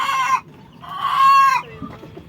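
Chickens in a breeding house, including Rhode Island and rose-comb birds, give two loud, close, drawn-out clucking calls separated by a short pause, with quieter clucks trailing afterward.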